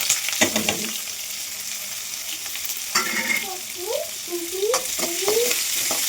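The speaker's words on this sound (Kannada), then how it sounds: "ಬ್ರೌನ್ ಕಲರ್ ಬರೋದಂತ ಸ್ವಲ್ಪ ಫ್ರೈ ಮಾಡ್ತೀನಿ." Garlic, onion, green chillies and curry leaves frying until brown for an egg and field-bean curry: a steady close sizzle with repeated scraping stirs and a few squeaky utensil strokes.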